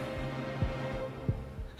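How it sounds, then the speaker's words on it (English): Heartbeat sound effect from a One Piece anime episode: two soft, low, evenly spaced thumps over a quiet hum, like muffled knocks. "Is that supposed to be a heartbeat?"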